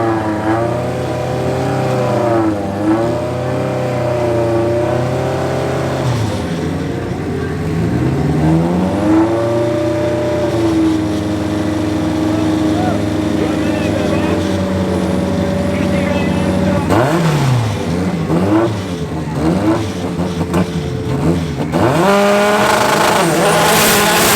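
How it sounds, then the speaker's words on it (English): A Turbo Caddy drag racing against a Honda CRX Turbo at a drag strip, with loud engines revving and climbing through gears and rising, falling whine under continuous commentary. "From Johan from MRD and his CRX Turbo going up against Johan from Motec and his Turbo Caddy"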